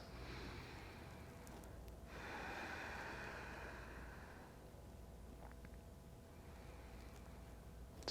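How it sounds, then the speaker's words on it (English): A couple of slow, deep breaths taken during a grounded yoga stretch, a long airy exhale swelling and fading over a faint steady hiss, close and soft with no speech. "So about 2 more deep breaths."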